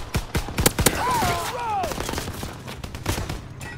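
Dense rifle and machine-gun gunfire in a Call of Duty WW2 battle, sharp repeated cracks in bursts near the start and again later, with a voice shouting over the din.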